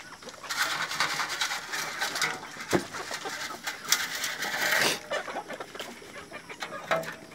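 Native chickens in a backyard pen cluck and squawk in a busy, overlapping flock chatter, with a few sharper calls standing out, heard close and fairly quiet, with no talking.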